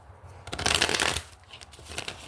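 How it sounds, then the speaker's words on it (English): A deck of tarot cards riffles in one quick, crisp shuffle, a brief burst of fluttering card noise up close. "let's do 3 shuffles"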